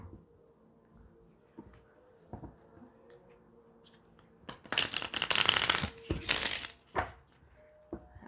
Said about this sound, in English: the deck was so stiff I couldn't even bend the cards to shuffle